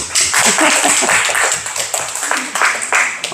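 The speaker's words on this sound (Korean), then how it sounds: "박수 한번 칩시다." Audience clapping in a large gathering, a dense sustained wash of hands applauding loudly throughout, with a voice briefly audible over it.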